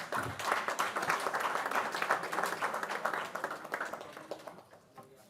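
Audience at an event marking Narendra Modi's 74th birthday breaks into sustained applause, a steady wash of many hands clapping at moderate distance that tapers off near the end.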